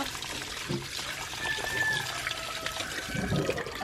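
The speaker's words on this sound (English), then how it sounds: "At least the water's coming out good." Water gushes steadily from a tap, a continuous splashing, pouring rush that stays close and fairly loud throughout, with faint background noise and no clear talk.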